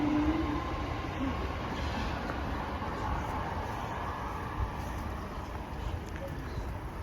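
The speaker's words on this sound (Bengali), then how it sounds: "ওই যে দেখতে পারতেছেন একটা ওভারগ্রাউন্ড ট্রেন যাচ্ছে।" A London Overground train passes near Tower Hamlets Cemetery Park, a steady broad rumble of wheels and carriages at moderate distance that fills the whole stretch, heard outdoors with no talking.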